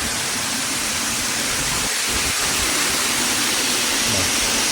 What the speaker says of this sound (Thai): ตอนนี้คือเราอยู่บนน้ำตกนะ